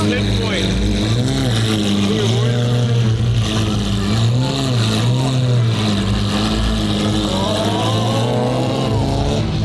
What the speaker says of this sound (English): Eric's never heard the Gintani exhaust outside the car in his car